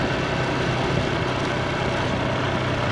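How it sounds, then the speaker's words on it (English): A motorcycle engine runs steadily with a constant broadband rumble and road noise, recorded from a rear-mounted microphone on the bike, with no voices. "I could cut down on its engine noise around town"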